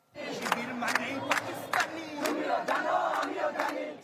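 Protesters from left-wing student groups at a Dhaka University demonstration chanting in rhythmic unison, a dense crowd of voices rising in repeated shouted bursts, loud and close throughout.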